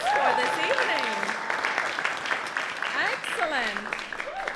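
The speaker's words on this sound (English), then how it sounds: "a round of applause for this evening" Audience applause at the finals of a college elevator pitch competition, steady clapping that carries through the whole stretch while a voice speaks over it loudly and close up.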